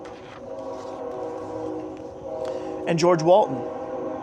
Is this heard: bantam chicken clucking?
no